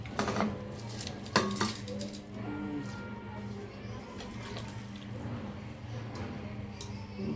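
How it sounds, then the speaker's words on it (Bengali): A bowl being washed in a home kitchen during chicken biryani cooking, with close clinks and clatter of metal dishware, a sharp knock early on, then softer handling and rinsing. "ধুয়ে দিই একটু বাটিটা।"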